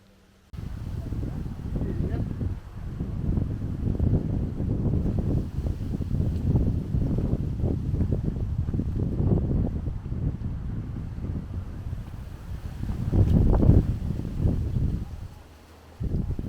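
Strong wind at Hawkstone Park buffets the microphone in gusty, rumbling bursts, with a louder surge near the end.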